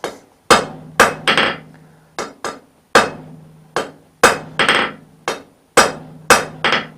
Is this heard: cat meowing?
no